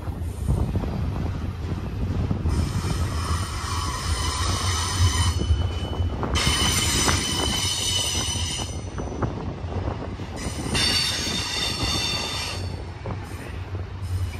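An iron ore freight train rolls past close by, its steady rumble and clatter broken by repeated bursts of high, shrill wheel squeal, with some wind buffeting the microphone.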